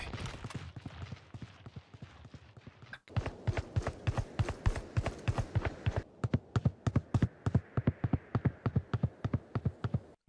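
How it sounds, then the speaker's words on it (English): Fake footsteps from Yoru's decoy ability in Valorant: a steady run of sharp, evenly spaced footfalls, close and clear, continuing without a break through the whole stretch. "the enemy team will hear the footsteps to be exactly like the real footsteps"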